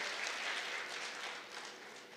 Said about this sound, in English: Can you please just give them a huge round of applause?